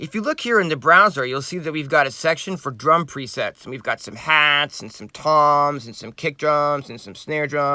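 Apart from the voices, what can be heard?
None of the usual background noises is heard.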